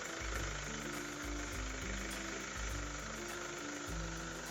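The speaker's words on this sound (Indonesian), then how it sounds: "Oke, sekarang kita nyalakan mesinnya, kemudian nyalakan pompanya" A 2013 Chevrolet Captiva engine idles with a transmission-fluid flushing pump running, producing a steady low rumble with a faint rhythmic pulsing and a constant background hiss, close and moderately loud.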